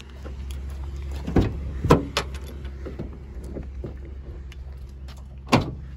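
Doors of a used 2016 Ford Transit-150 van are opened, giving several sharp latch clunks and thumps over a low steady hum, with a final solid clunk near the end.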